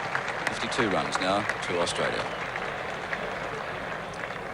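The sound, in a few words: applause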